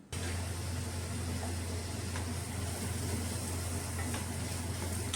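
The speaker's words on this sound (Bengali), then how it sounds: "খুব ভালো মতো সব একসাথে নাড়াচাড়া করব আর ফ্রাই করে নেব" Chopped paneer and cashew nuts fry in a pan while being stirred, a dense, steady sizzle that stays even and close throughout, without voices, for a white vegetable pulao.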